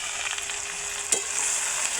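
Cumin seeds and leafy vegetables (patharichi bhaji) fry in hot oil with a continuous bright sizzle, close and steady, punctuated by one sharp crackling pop midway.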